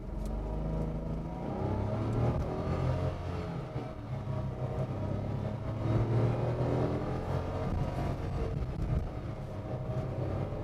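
Datsun Redigo 1.0 AMT pulls away from a standstill, its small engine droning steadily and rising through the gears from inside the cabin, a continuous moderate hum with no talk.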